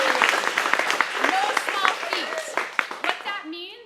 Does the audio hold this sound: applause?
yes